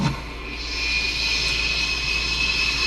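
A jet aircraft roars overhead in a shooter video game, a loud, steady whining engine drone that swells slightly and holds throughout, with no talk.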